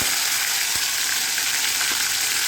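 Mustard seeds and cumin frying in hot oil, a dense, continuous crackling sizzle heard up close and evenly loud, with a couple of faint pops and no talking.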